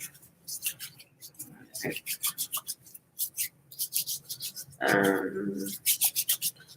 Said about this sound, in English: I put some hand sanitizer on and give myself a good rub down there